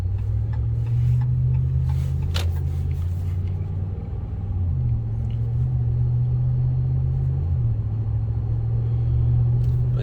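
A 2014 RAM 1500 Laramie pickup rolls along the road with a steady, loud low-pitched engine and road drone that holds constant and shifts pitch a couple of times as it changes gear.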